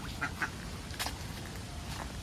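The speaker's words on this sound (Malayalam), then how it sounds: "താറാവുകളൊക്കെ ഉണ്ട് കേട്ടോ ഇവിടെ." Ducks at a fish farm pond give a few short, fairly faint quacks over quiet outdoor background.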